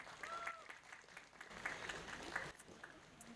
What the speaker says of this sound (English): May we please renew the big round of applause for all of you.